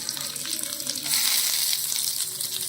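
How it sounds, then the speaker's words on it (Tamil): Onions sauté in a hot pan for egg biryani with ginger and pepper, giving a steady bright sizzle and crackle with light stirring scrapes, close and continuous. "இப்போ நம்ம ஆனியன் சேர்த்து வதக்கிடலாம்"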